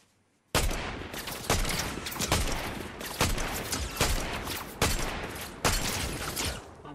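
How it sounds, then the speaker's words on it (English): Rapid video game gunfire in dense bursts, loud and close, with repeated sharp volleys over a steady roar of shooting and no talk. "they're shooting wildly now"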